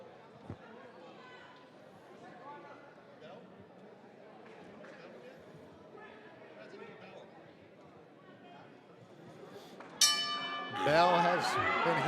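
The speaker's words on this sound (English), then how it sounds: "Bell has been hit, and we go." A boxing bell is struck to open a professional bout, ringing out with bright repeated strikes near the end, after steady arena crowd noise with a commentator talking over it.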